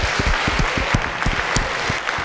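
Audience applause for panelists at an evening panel talk on New York sound system culture, a short burst of steady clapping from a modest crowd, close and fairly loud.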